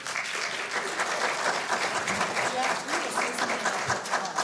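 A room full of people at a county board of supervisors meeting claps steadily for several seconds, a dense, even patter of applause heard from a moderate distance.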